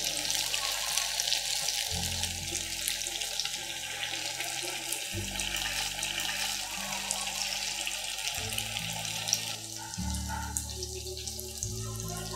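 Tofu fries in hot oil over high heat with a continuous crackling sizzle, moderately loud and steady, while soft music plays underneath.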